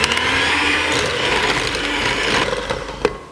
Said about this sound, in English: So I'm using my hand mixer to bring this together.